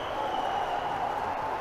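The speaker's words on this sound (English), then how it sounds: "Absolutely huge noise from the crowd." Spectators at a men's gymnastics high bar final in Mersin roar and applaud steadily, a dense, even wash of crowd noise heard from a distance at moderate level.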